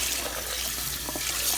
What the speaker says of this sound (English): I'm going to just get it into some cold water.